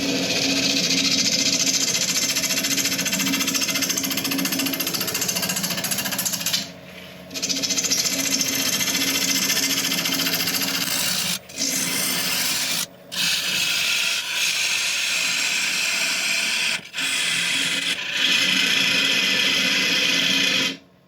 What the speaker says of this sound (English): Okay, face shield is on and we're going to start turning at 900 RPM.